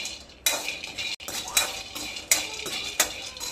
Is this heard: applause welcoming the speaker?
no